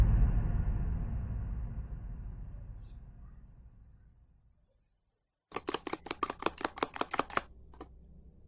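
A knife chops chicken-flavoured sausage on a cutting board in a quick burst of about a dozen crisp, close strikes, following a fading low rumble and a moment of silence.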